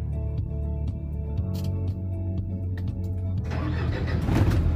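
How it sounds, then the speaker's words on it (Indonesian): A truck engine cranks and catches after the ignition key is turned, a steady idle rumble running beneath, then the sound broadening into a louder, rougher running note near the end; no one speaks. "Nah, ketika mati, kita putar langsung ke depan."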